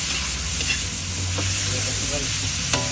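Vegetables such as cabbage added to lomi noodles frying in a pan, sizzling loudly and continuously at close range with stirring scrapes and a low hum underneath.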